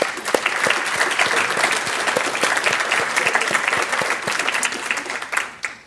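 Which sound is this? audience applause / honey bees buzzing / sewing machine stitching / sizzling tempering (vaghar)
audience applause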